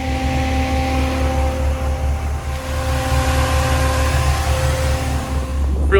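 A 1977 Chevrolet C10 pickup truck cruises along, its engine giving a steady low drone with tonal hum and road and wind noise, heard from inside and continuous throughout.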